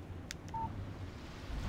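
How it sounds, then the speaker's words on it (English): A short electronic alert tone chimes once from a mobile phone receiving a text message in the video game Alan Wake Remastered, brief and faint over a low background hum. "Text message from Barry"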